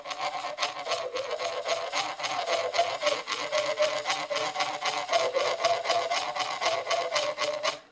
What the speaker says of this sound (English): you can shape the rhythm of the song by how you scrape